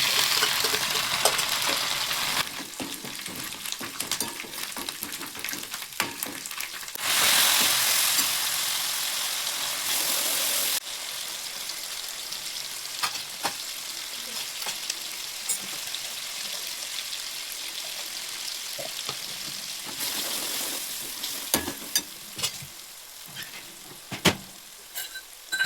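Steady hissing sizzle of garlic-ginger paste frying in hot oil with asafoetida and cumin for dal tadka, swelling louder at moments, with occasional clinks and scrapes of stirring and no talking.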